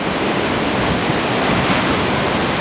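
Ocean surf breaking on the beach at Anglet, a loud, steady wash of crashing waves filling the whole stretch with dense broadband roar and no voices.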